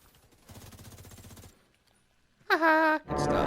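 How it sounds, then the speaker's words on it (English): Gunfire from another player in The Division 2: a rapid automatic burst of shots that rattles for about a second at moderate loudness, then a short gap, then louder sustained in-game sounds with a tonal alarm-like tone. "Getting shot at by another player."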